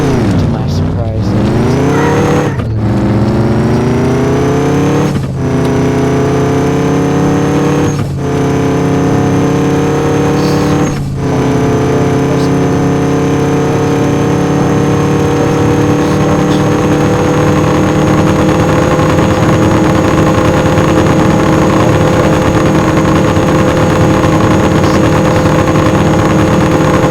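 The Jurassic Park Jeep in the Offroad Outlaws video game, accelerating down a long drag strip: a loud synthetic engine tone climbs through several quick gear shifts, each with a brief dip, then holds a steady high-pitched whine at top speed.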